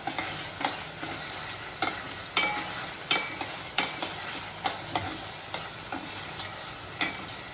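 Ginger, garlic and coconut paste fries over low heat in a pan for an egg curry, giving a steady soft sizzle. A spoon scrapes and stirs through it about every half second, with no talking.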